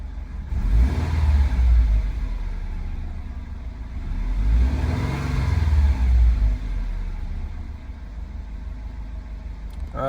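A Subaru WRX engine runs just back on the road after a radiator problem and a long idle spell, a low rumbling drone that swells twice like light revving and then settles, with a slight shake.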